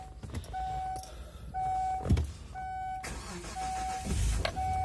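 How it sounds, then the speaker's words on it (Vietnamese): A Kia Carnival MPV engine cranks and catches several times between repeated electronic dashboard beeps, then settles into a low idle, heard close inside the vehicle with no voices. "bây giờ ta đi khởi động động cơ"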